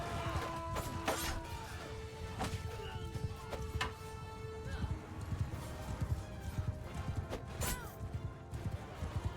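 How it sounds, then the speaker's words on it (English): Elite cataphract cavalry galloping in the game Mount and Blade II: Bannerlord, a dense steady patter of hooves with occasional whinnies and clashes layered over a continuous battle din. "their cav are just insane. Like, look at all these frickin' elite cataphracts."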